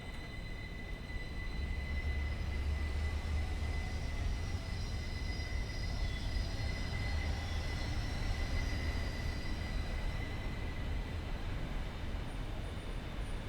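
A train in Train Sim World 5, exploring Switzerland, rolls along with a steady low rumble of wheels on rails and thin high squealing tones over it, continuous and even.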